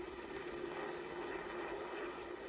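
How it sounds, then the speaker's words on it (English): Steady, continuous rotor and engine drone from a Navy SH-60 Seahawk helicopter flying over an aircraft carrier during patrol and rescue practice, a constant moderate roar with no voices. "carrier's helicopters fly patrols and practice rescue missions."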